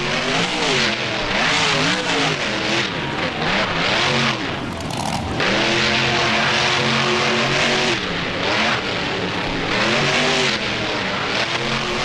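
A BeamNG monster truck engine roars loudly and continuously through a freestyle run, pitch rising and falling as the throttle is worked, with one brief dip before it revs hard again.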